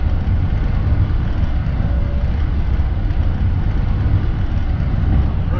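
Jet engines of a Boeing 787-9 Dreamliner rolling down the runway for takeoff, a steady, loud, muffled rumble that holds even with no change throughout.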